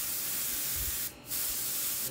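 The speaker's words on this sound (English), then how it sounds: "I'm spraying even onto the black so I don't go too far into the green." An airbrush sprays paint onto a lion model with a continuous close hiss. The hiss drops out briefly midway and then resumes, and no voice is heard.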